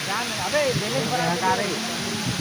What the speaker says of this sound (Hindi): ये देखा संगवारी हो पूरा पानी गिरत है